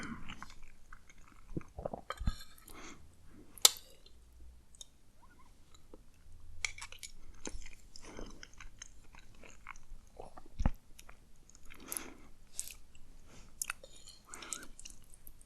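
Close, quiet chewing of pasta and fish with soft wet bites and occasional crunchy clicks, irregular and intimate, with no talking.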